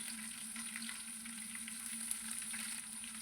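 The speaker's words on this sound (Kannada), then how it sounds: "ಇವಾಗ ದೊಡ್ಡ ಸೈಜಿನ ಒಂದು ಈರುಳ್ಳಿಯನ್ನು ಸೇರಿಸಿಕೊಳ್ಳುವ." A large onion frying in a pan with crushed garlic and urad dal gives a steady, soft sizzle and crackle, continuous and close but fairly quiet, with no talking.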